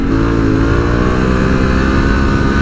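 A 2022 Honda Africa Twin motorcycle engine revs hard and steadily while the bike drifts on a dirt surface, a loud, close, continuous mid-pitched roar with no talking.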